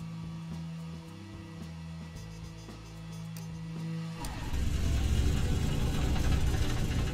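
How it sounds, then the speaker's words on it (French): A DC-3 radial engine starts up in Microsoft Flight Simulator 2020, with a whirring starter and clicking cranking that give way to a loud, steady rumbling run as the engine catches. "maintenant ça fait 5 secondes, on va donc lancer le moteur en enclenchant l'interrupteur mèche."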